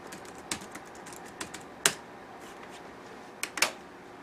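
Keystrokes on a Dell Latitude C610 laptop keyboard, a handful of sharp, scattered clicks and a few louder taps against a quiet room hiss, with no voices.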